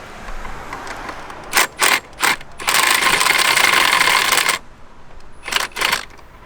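A 10mm valve cover nut on a BMW 328i E90 is worked loose, with a few short mechanical ratcheting bursts, a longer sustained scraping rattle, then more brief clicks, all close and fairly loud.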